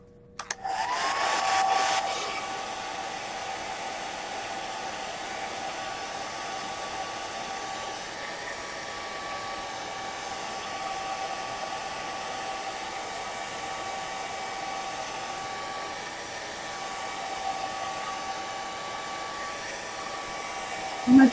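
A hair dryer runs steadily at close range for about twenty seconds, drying a gelli plate print, a constant whooshing hum after a brief louder start, with no voices.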